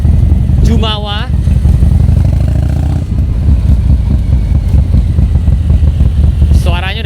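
A stage 2 modified Harley-Davidson Street Bob exhaust loud and close, a deep rumbling engine held steady through most of the span with a couple of brief rev swells.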